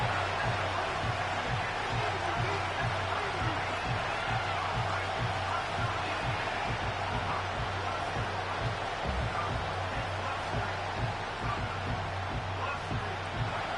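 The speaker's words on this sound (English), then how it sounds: "The crowd cranking it up another notch before third and long" Football stadium crowd roaring steadily through the fourth quarter ahead of a third-and-long, a dense, continuous wash of cheering with a low hum underneath and no letup.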